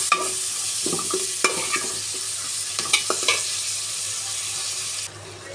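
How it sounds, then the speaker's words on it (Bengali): Crabs frying in oil give a close, steady sizzle with repeated clattering stirs and scrapes in the pan, and the sound drops off abruptly near the end. "কাঁকড়গুলো সুন্দর করে ভুনা করে নেব।"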